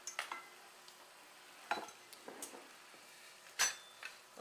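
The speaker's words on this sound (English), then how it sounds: "right into my cold milk, and I'm just going to whisk it up real good" Cornstarch is whisked into cold milk, giving a few quiet, scattered scraping and clinking strokes of a whisk against a bowl, with short bursts separated by near silence.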